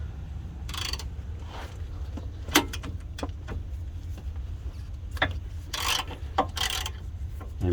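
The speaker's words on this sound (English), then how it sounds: "ratchet is not going to take it off, so we just move on to the big ratchet" Big ratchet working a bolt loose on a 2012 Subaru Legacy during a front brake job, with scattered clicks and several bursts of ratcheting over a steady low garage hum.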